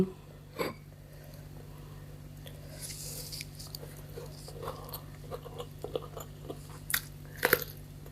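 Close, quiet chewing and crunching of spicy Thai pickled shellfish salad, scattered bites and soft mouth sounds over a low steady hum, with a few louder crunches toward the end.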